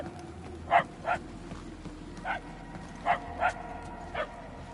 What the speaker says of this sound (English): The baying beast is not far.